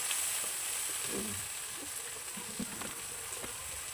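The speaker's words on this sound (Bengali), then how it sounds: "তো তেল দিয়ে পেঁয়াজটা মরিচগুলো ভেজে নিচ্ছি" Onions and chillies fry in hot oil with a faint, even sizzle and a few soft stirring knocks. No one speaks.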